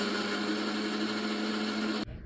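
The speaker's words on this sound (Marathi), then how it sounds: "ओलं खोबरं, कांदा, आलं, लसूण, हिरवी मिरची, हळद, जिरं आणि थोडंसं पाणी घालून हे सगळं मिक्सरमध्ये वाटून घ्यायचं आहे" A kitchen mixer grinder whirs steadily at high speed as it grinds fresh coconut, onion, ginger, garlic, green chilli, turmeric and cumin with a little water into a paste for kadhi, then cuts off abruptly near the end.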